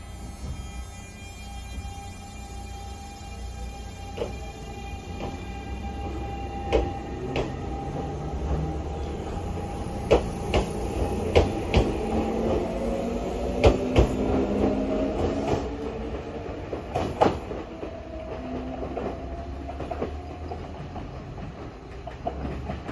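A Kintetsu semi-express train bound for Osaka Abenobashi departs Gose Station, a steady close rumble that slowly builds, with a rising motor whine, rhythmic wheel clacks over rail joints and some squeals.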